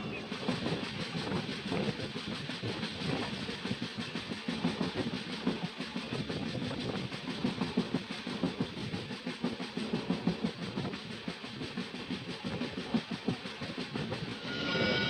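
Coromandel Express passenger train running on rails, a continuous rumbling roar with rhythmic wheel clatter, heard from inside the moving train at a steady moderate level.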